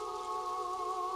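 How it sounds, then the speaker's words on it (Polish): Rain falls steadily in the background of the video game Patapon, a faint continuous hiss with a soft tonal hum layered over it and no voices. "czy zwróciliście uwagę, ale w tle słychać padając deszcz"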